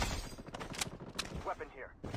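Gunshots in the Blood Strike video game: quiet, quick bursts of shots in rapid succession, mixed with faint game sounds and a narrating voice.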